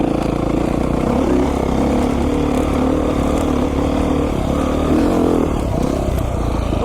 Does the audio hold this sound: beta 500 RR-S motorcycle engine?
yes